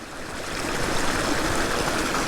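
A stream flowing at a landscape photography spot, a close, full hiss and gurgle of moving water that grows slightly louder and stays continuous, with no talking.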